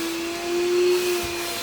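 An 8-gallon two-stage shop vacuum runs steadily as a loud continuous whine and rushing airflow, holding a constant motor hum with a slight swell partway through.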